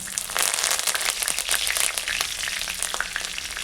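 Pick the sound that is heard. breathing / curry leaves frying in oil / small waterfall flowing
curry leaves frying in oil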